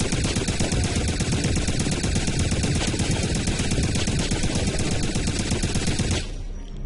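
Dense, rapid gunfire in the video game Wolfenstein rattles continuously in a loud fusillade of overlapping shots, ending abruptly into quieter background noise.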